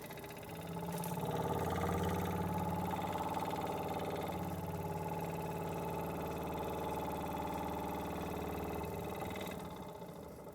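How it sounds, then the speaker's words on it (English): A Jensen Model 70 oscillating steam engine runs steadily at close range, a sustained mechanical drone with a continuous rhythmic chuff that holds even for about nine seconds before easing off. "I think for an oscillating engine that is powerful"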